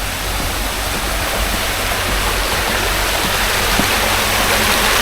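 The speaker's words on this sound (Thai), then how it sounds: "มีน้ำตกด้วยไหลลงไปที่อ่างพระลานะครับ" Steady, dense rushing of a waterfall pouring into a pond at Narita temple in Japan, a loud continuous wash of water with no pauses and no voices.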